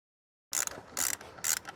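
A torque wrench tightening the timing belt tensioner bolt on an Opel Corsa OPC Nürburgring Edition, three quick close ratcheting bursts after a brief silence.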